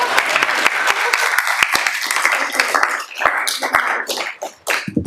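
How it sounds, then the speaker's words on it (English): An audience at a city council meeting claps continuously, close and fairly loud, with sharp individual claps standing out, then thins near the end as murmuring voices break in. "I guess we keep clapping either way."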